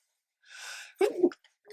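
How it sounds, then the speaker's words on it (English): A single sharp sneeze, preceded by a quick breathy intake, close and fairly quiet against silence. "I'm going to sneeze."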